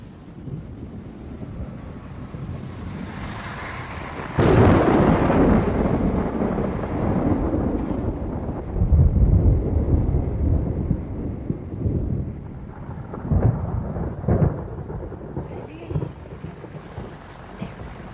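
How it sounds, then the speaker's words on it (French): An approaching thunderstorm in a French horror film: steady rain and wind hiss, with a loud thunder rumble swelling and lingering for several seconds, then further rumbles and gusts continuing under the storm. "La tempête se rapproche."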